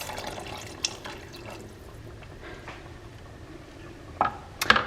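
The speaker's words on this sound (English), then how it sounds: "you're just gonna take this, pour it into your sauce" Liquid trickles and splashes faintly into a pot of sauce, with a few small clinks and drips toward the end, quiet and close.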